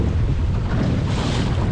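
Strong wind and waves on the open water of a bay while sailing a Laguna-Kombi+ centreboard dinghy, a loud continuous rushing roar with wind buffeting the microphone and no voices.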